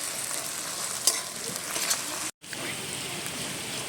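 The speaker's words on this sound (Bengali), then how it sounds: "আদা রসুনটা দিয়েও বেশ সুন্দর করে কষে নেব মশলাটা" A spice paste with ginger and garlic sizzles and is stirred in a hot kadai. The frying hiss is steady, with a few scraping pulses and one brief cut-out in the sound.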